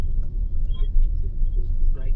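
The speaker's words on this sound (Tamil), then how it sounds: "பயங்கர டிராஃபிக்கில் இருக்கிறோம்." Heavy road traffic near Vancouver, British Columbia, forms a low, steady engine rumble close by, with people talking over it.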